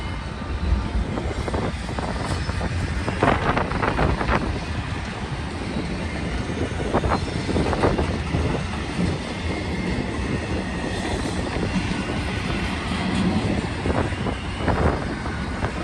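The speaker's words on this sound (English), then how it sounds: "ES44DC and an ES44AC." Norfolk Southern ES44DC and ES44AC diesel locomotives pulling an intermodal stack train in Cajon Pass, a constant heavy rumble of engines and rolling wagons with clanking bursts, loud and steady throughout.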